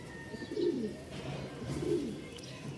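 Pigeons on a pigeon farm in Mirpur-1 give soft, throaty cooing calls, two rounded coos about a second apart over a low, steady background hum.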